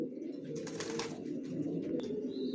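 A pair of adult racer pigeons in a loft coo close by, with low rolling murmurs running continuously and a short higher call near the end.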